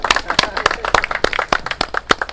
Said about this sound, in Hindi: हाँ तालियां सर के लिए